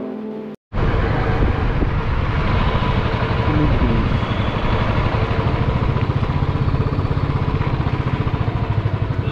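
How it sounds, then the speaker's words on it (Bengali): A motorcycle rides along a national highway under road works, its engine droning loud and steady with heavy wind rush after a brief dropout near the start. "তাই একটু সাবধানে বাইক চালাতে হবে"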